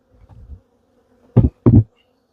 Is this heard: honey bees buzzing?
yes